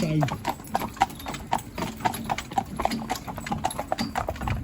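Unshod hooves of a young Fell pony clip-clop in a quick, steady rhythm close by, while a person talks over the footfalls.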